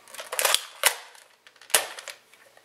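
Unmodified Nerf gun firing in a sound test, giving a few sharp snapping pops with mechanical clatter between them, close and fairly loud, with no voices.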